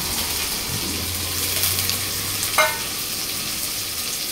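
Chopped onion and garlic paste fry in oil for chicken do pyaza, a soft continuous sizzle at close range with a brief low hum and a single sharp clink partway through.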